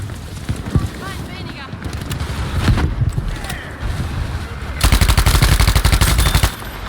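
Thompson submachine gun firing in the video game Battlefield V, scattered bursts and shots giving way to a loud, sustained rapid-fire burst near the end, with other game sounds and a player talking throughout.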